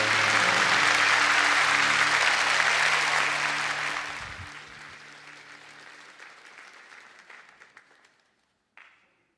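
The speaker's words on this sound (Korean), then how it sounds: "우리 박수로 축복하겠습니다" A church congregation applauds to bless twelve newly baptized members: dense, loud clapping fills the first few seconds, then thins and fades over several more, ending with a brief sound after a short pause.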